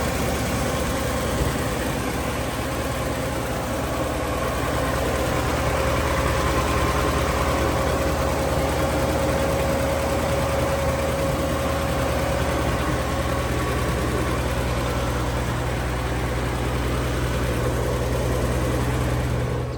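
A 1958 Chevy Bel Air with a new exhaust idles steadily, a low, even rumble that stays constant throughout with no revving.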